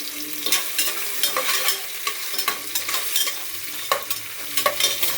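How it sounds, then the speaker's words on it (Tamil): Onions sizzle in a hot pan with mustard seeds and curry leaves, stirred now and then with sharp scraping strokes over a steady frying hiss, close and moderately loud. "வெங்காயம் வதங்கிட்டு இருக்குது."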